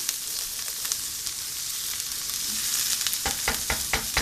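Onion and garlic fry in a pan with a steady broadband sizzle, joined near the end by a few sharp clinks and stirring knocks; no voices.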